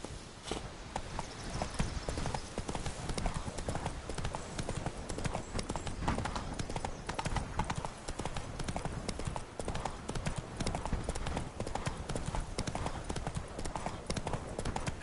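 Roach the horse trotting in The Witcher 3, a rapid continuous clip-clop of hooves with a steady rhythm over dense game sound, a faint voice now and then underneath.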